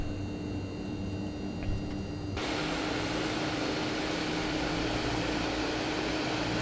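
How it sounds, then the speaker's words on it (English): The Inibuilds MU-2 turboprop in MSFS2020 hums with a steady engine roar that swells suddenly into a louder, hissing rush as reverse thrust engages and then holds at a constant level. "I'm going to go ahead and hit reverse thrust so y'all can see that in action."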